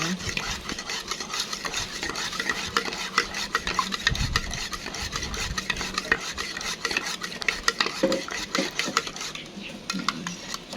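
A utensil stirs baking soda dissolving in water inside a container, steady scraping and clinking strokes repeating close by with no one talking.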